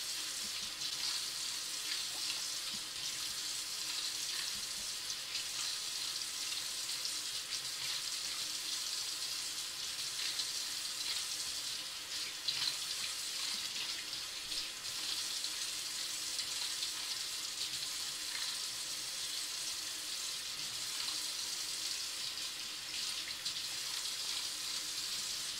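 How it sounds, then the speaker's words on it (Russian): Running tap water splashes steadily while vegetables are washed for a cheese soup, a continuous hissing stream with no talk. "Моем другие овощи."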